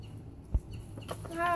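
Brief clucking chicken calls outdoors, fairly faint, with a soft thump and a short higher call at the end.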